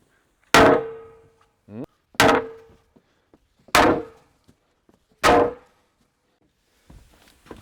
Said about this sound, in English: I got a sledgehammer and an extra piece of glass